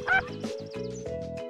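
Cartoon duck quacks mixed with a steady musical tone and bouncy animated soundtrack, in an educational children's animated show about counting five happy ducks; short, repeated quacks, no talking.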